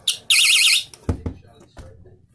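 A cheap Dollar Tree battery door/window alarm mounted on a door sounds as the door opens: a brief chirp, then a loud, piercing warbling shriek for about half a second, followed by a few knocks and handling thuds.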